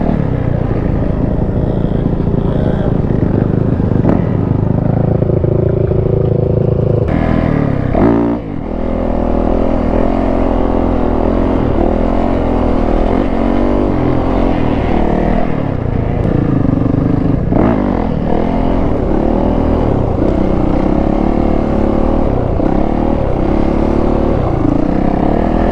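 A 450 off-road dirt bike engine runs loud and close throughout, its steady roar rising and falling as the rider revs and shifts while riding off-road, with no talk.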